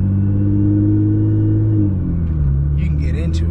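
A Nissan GT-R accelerating close by, a loud rising engine rumble that drops abruptly as it shifts from first to second gear, then pulls again.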